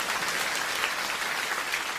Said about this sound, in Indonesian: Tepuk tangannya harusnya lebih hebat dari itu.